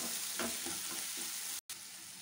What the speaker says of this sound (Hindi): प्याज का कलर चेंज होने तक इसको भूनेंगे